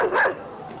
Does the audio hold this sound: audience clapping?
no